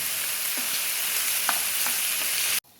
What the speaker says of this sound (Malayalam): നമുക്കിനി ഓരോന്നായിട്ട് ഇതൊന്ന് മറിച്ചിടാം.